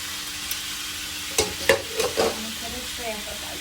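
Green hemp chow mein being stirred in a pan, with a few scraping, clattering stir strokes over a soft, steady sizzle close by, then quieter tossing toward the end.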